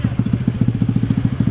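Honda Pop 132i four-valve motorcycle engine running close by, a rapid, even low-pitched thumping pulse that holds steady throughout.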